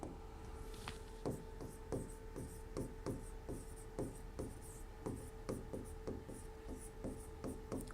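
Pen writing on a surface during a biology lesson, a steady run of short scratchy strokes repeating at a quick rhythm, close and fairly quiet over a faint steady hum.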